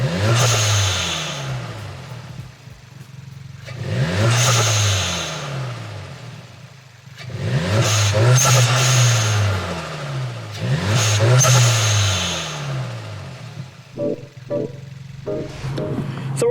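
Car fitted with a JB1 tune and HKS blow-off valve, revved repeatedly in a parking lot: about four rising-and-falling engine pulls with hissy bursts between them, then a few sharp pops near the end.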